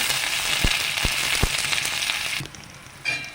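Garlic, ginger and curry leaves fry in hot oil with a loud, continuous sizzle up close, broken by a few sharp clicks of a utensil before the crackle drops off and briefly flares again.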